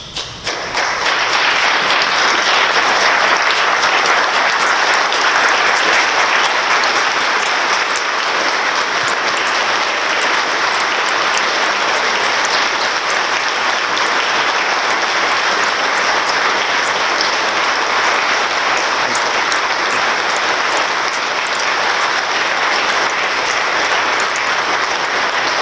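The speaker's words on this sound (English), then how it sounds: "I wondered if we could all rise together and give Walter our own version of a thunderous applause" A standing audience at a memorial service gives a long, thunderous ovation, with loud, dense clapping that stays steady throughout and almost no talk.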